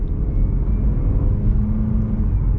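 Steady low engine drone and road rumble inside a 2023 Mazda CX-30 Premium AWD pulling away and accelerating, loud and continuous with a rising tone.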